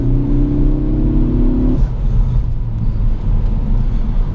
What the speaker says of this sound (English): I always loved the way the ST sounds with the induction noise it has